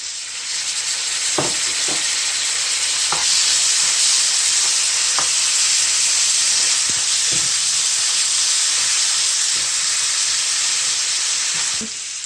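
Chopped tomatoes sizzle and fry steadily in a hot pan for salmon curry, a continuous bright hiss with occasional soft clicks and pops, close and fairly loud throughout.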